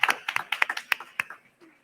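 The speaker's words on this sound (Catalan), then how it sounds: "Un aplaudiment, sisplau" A few people clap briefly at a live anime talk event, a short uneven burst of close, distinct hand claps that quickly thins out and stops.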